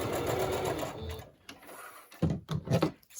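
A sewing machine stitches a short repair on one section, first running in a steady buzzing whir, then pausing and going again in two quick rattling bursts, close and clear with no talking.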